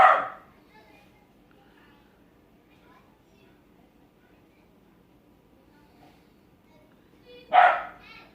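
A single loud dog bark bursts out near the start, then a long quiet stretch with faint background noise before another sharp bark near the end.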